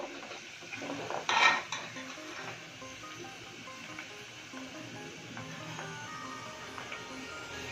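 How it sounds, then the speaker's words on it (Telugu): Urad dal is stirred in a pan while making tomato pickle. A spoon scrapes and clinks against the metal steadily, louder for a moment early on, over a soft background hiss. "మంచిగా బ్రౌన్ కలర్లో మంచిగా ఈ పప్పులన్నీ మంచిగా వేగాలన్నమాట"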